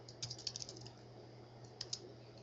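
Keys clack faintly on a computer keyboard as a name is typed into a document header, with a quick run of keystrokes, a pause, then a few more taps over a low steady hum.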